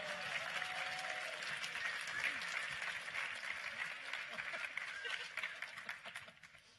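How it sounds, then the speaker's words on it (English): An audience claps and cheers for sock puppet performers at a live comedy stage show, a dense, sustained burst of applause that fills the room and tapers slightly toward the end, with faint voices mixed in. "Give them a round of applause."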